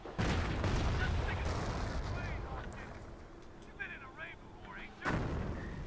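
A mortar bunker firing in a World War II strategy game, heavy booming blasts at the start and again near five seconds, with battle clatter and excited voices and some chirping effects in between.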